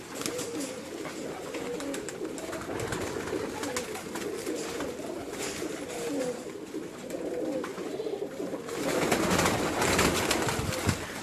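Pet pigeons kept at a home setup in Gujranwala coo in a steady, crowded murmur of overlapping low calls, close by and continuous, swelling slightly louder near the end; no one speaks.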